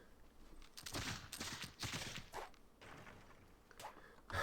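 Sword slashes against a cannon in a Civilization VI battle, a vampire unit striking: several sharp metallic clashes and thuds in quick bursts, with combat noise in between.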